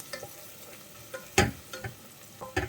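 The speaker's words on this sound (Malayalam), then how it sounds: "നമുക്ക് ഈ സമയത്ത് ഒരല്പം മഞ്ഞൾപ്പൊടി കൂടി ചേർത്ത് കൊടുക്കാം. സവാള നന്നായിട്ടൊന്ന് വഴലട്ടെ." Onions sauté in a pan with a pinch of turmeric for soya chunk biryani. A soft sizzle runs beneath a few distinct scrapes and taps of the stirring spoon, and one stroke is louder than the rest.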